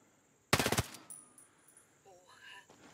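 Suppressed gunfire in the video game Ghost Recon Breakpoint: a quick burst of several muffled shots in rapid succession, fairly loud against a quiet background, followed by faint game tones.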